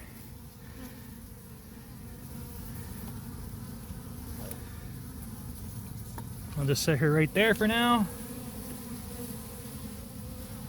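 A swarm of honey bees taken from a bird house hums in a steady, soft buzz, with a voice speaking briefly over it near the end.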